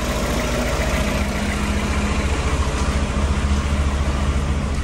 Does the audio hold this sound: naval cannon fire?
no